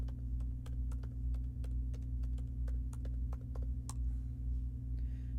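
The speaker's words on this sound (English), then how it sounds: "I'm gonna open a new tab and I'm gonna type backpack clip art." Rapid, crisp clicks of typing on a computer keyboard, a short burst of keystrokes over a steady low electrical hum, with no talk.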